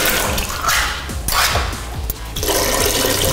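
Pineapple juice and chunks splash into a Sprite-based party drink, loud gurgling pours with irregular plops and sloshes, briefly pausing before the stream resumes, close and without speech.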